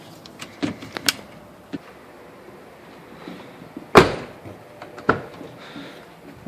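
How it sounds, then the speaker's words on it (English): A 2006 Ford Explorer door with a newly replaced handle is tested: scattered clicks and latch clacks, then one sharp loud thunk, a couple more clicks and a final knock, close and alone. "test the door and just make sure it works before I put everything together"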